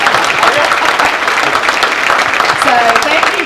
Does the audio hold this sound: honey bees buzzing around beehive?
no